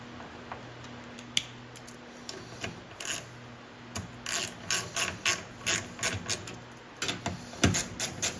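Ratcheting screwdriver clicks driving screws into a Godzilla 70th pinball machine while a slingshot and return lane guide toy is installed, quick bursts of close mechanical ticking repeating in short runs with pauses between, no talking.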